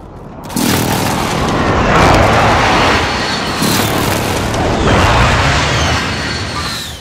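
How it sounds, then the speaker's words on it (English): Precision airstrike explosions in Call of Duty: Modern Warfare on PS5 land as a string of heavy booms, loud rumbling blasts arriving in overlapping waves that keep roaring across the whole stretch. "Friendly precision airstrike inbound."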